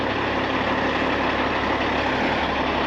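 Cattle truck, a bull hauler, idling with a steady low diesel rumble and dense broadband engine noise, loud and close with no change in pace.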